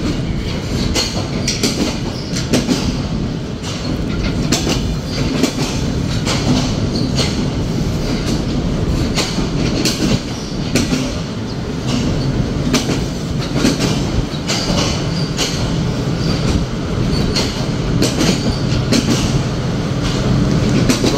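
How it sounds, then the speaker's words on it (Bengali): Chitra Express intercity train, running with CRRC coaches, being placed at platform 1 in Khulna: a continuous loud rumble of rolling wagons with rhythmic wheel clatter and occasional squeal, close by. "খুলনার 1 নম্বর প্ল্যাটফর্মে প্লেস করা হচ্ছে আন্তনগর চিত্রা এক্সপ্রেসকে"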